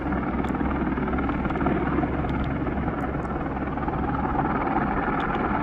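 Helicopter on a tour flight from Kathmandu to Gosainkunda lake in the Nepal Himalaya, a loud continuous rotor and engine drone that stays steady throughout, with no voices.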